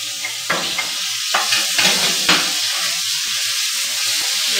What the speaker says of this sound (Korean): 여기에서 고기를 충분히 익혀주세요.